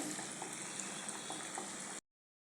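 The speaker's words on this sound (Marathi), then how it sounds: "हे बघा, आता याला आपण छान सोनेरी अशा रंगावरती तळून घेऊया" Pea vadas deep-fry in hot oil with a steady, faint bubbling hiss and scattered small pops, close by with no talking, cutting off abruptly near the end.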